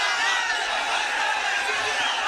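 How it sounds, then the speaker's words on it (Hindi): A large crowd at a political rally in Murshidabad, West Bengal, claps and cheers to welcome Barrister Asaduddin Owaisi, a steady dense roar of applause with scattered shouts lasting throughout. "साहब का तालियों से इस्तकबाल कीजिए।"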